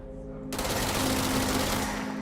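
Sustained automatic gunfire from a video game weapon, a rapid continuous burst starting abruptly after a brief lull and running loud and dense to the end.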